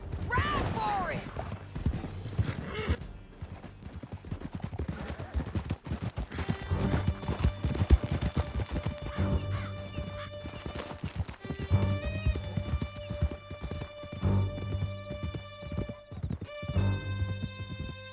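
Horses galloping in Red Dead Redemption 2, with steady clip-clop hoofbeats and an occasional whinny running through the whole stretch under a music score, loud and close.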